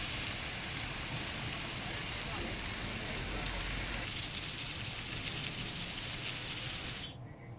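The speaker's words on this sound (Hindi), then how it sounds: "हरिद्वार में तेज बारिश शुरू हो गई है।" Heavy rain pours steadily in Haridwar, a dense, loud, continuous hiss of drops on surfaces that swells slightly partway through before fading out near the end.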